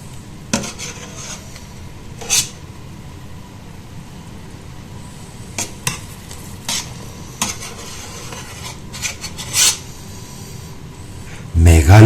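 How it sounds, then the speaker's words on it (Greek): Grape preserve is being stirred in a pot, with soft scraping, a steady low bubbling simmer and several sharp clinks of a utensil against the pot spread through the clip. "Μεγάλη προσοχή όταν ανακατεύουμε να μην λιώσουμε τις ρόγες."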